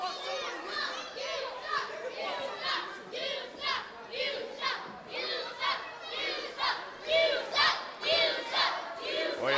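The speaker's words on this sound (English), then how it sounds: "this crowd certainly letting Weinberg and Morrison know exactly what they think" An indoor crowd at an independent pro wrestling Christmas show in Butler, New Jersey shouts and jeers in rhythmic bursts of voices. The surges grow louder and more insistent toward the end.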